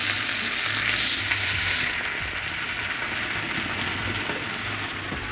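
Tomato and spices with turmeric, mixed masala, red chili and salt fry in a pan with a steady sizzle, and a louder stirring hiss fades after the first couple of seconds.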